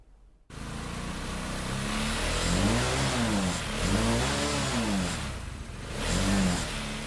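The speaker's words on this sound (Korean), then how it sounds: "한껏 그르렁대는 엔진" An amateur-built racing car engine revs up and down repeatedly nearby, loud growling pitch sweeps rising and falling, starting abruptly after a brief quiet moment.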